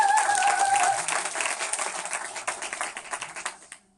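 Seminar attendees clap together in a steady, dense round of applause that gradually thins into scattered claps and dies away over about four seconds.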